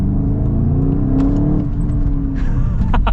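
A 2023 VW Golf GTI in manual sport mode accelerates with a steady, loud engine drone that climbs in pitch, then shifts and continues, with a few sharp exhaust pops near the end.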